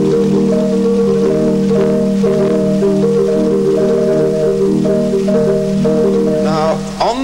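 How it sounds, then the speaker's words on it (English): Tuned marimba stop on the ex-Paramount Newcastle 3/19 Wurlitzer theatre organ, sounding as a steady run of sustained, loud organ tones with a brief flourish near the end, no talking over it. "We've got a lovely tuned marimba here."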